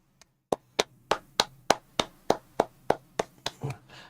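A round of applause at a Brentford versus Liverpool football match comes through as about a dozen crisp, evenly spaced claps in a steady rhythm, close and distinct, trailing off into a few softer hits.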